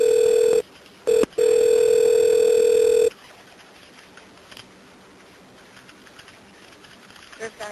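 A steady telephone tone pulses on the line while an emergency call is being transferred to the county fire department, cutting off twice early and then stopping abruptly after about three seconds, leaving faint line hiss.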